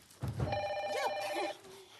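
An old-style telephone bell rings steadily with a bright, metallic trill for over a second, fairly close and clear, with a faint voice just before it and a quiet room afterward.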